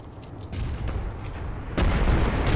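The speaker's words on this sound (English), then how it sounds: "It's only light mortars, so my Panzer IIs should be able to deal with that." Light mortar fire in the video game Graviteam Panzer Shock, a low rumbling barrage with scattered thuds and one sharper, louder blast near the end, no voices.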